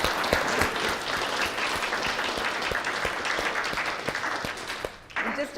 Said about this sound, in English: Let's give another round of applause to Liz and Kay.